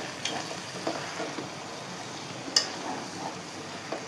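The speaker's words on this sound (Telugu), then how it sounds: "ఇంకా కొంచెం ఫ్రై అవ్వాలి" Chicken and onions frying in a pan give a soft, steady sizzle, with faint stirring scrapes and one sharp utensil clink partway through, fairly quiet and with no talking.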